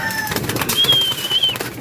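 Racing pigeons flap their wings at feeding time in a loft, giving a quick run of close fluttering bursts with a few thin whistling tones over them.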